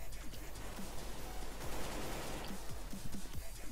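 Rapid bursts of AK rifle gunfire in Counter-Strike: Global Offensive, single and clustered shots cracking over a steady noisy background, with no talking.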